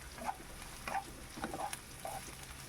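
Sliced carrots and onions fry in a pan for a white sauce chicken pasta, a faint low sizzle broken by a few soft scrapes and clinks as they are stirred.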